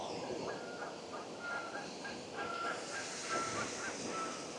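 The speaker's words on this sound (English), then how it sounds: "There go some geese." Geese honk in short repeated calls at a distance, over a steady wash of flowing water and outdoor ambience.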